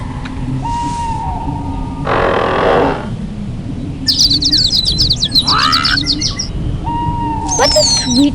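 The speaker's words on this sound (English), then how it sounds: "What a sweet little bird." A bird chirps and trills in a Snow White video game forest, bright repeated calls rising over a steady background bed, with whistling tones and a hissing burst along the way.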